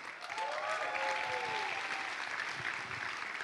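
Sustained audience applause at an opening ceremony, dense steady clapping from a crowd filling the whole stretch at even loudness.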